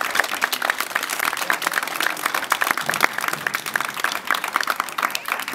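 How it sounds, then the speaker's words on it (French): An audience at a village festival in Saint-Julien-du-Verdon applauds steadily, many hands clapping in a dense, continuous patter that stays even throughout. "Je crois qu'on peut les applaudir avant qu'on commence parce qu'ils ont fait du bon travail."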